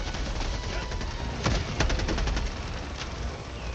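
Turret gunfire in the video game Helldivers 2, rapid bursts of shots over a dense, noisy battle background, moderately loud.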